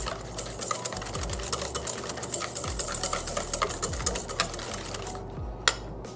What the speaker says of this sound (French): on va commencer à fouetter énergiquement